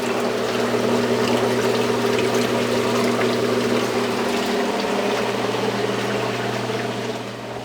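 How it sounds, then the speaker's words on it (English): Steady mechanical pump hum from a reef aquarium's calcium reactor, with water rushing and gurgling through it, constant and close, no voices. "it just turned on, and it doesn't dose too fast, and it just forces water through the calc reactor"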